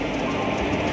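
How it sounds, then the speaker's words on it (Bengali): The Kriya Yoga Express pulls into platform 22 on a rainy day, a loud, continuous rumble and clatter of rolling stock that fills the whole moment with no voices. "বন্ধুরা, আমাদের ট্রেন ঢুকছে কিয়াজোগি এক্সপ্রেস।"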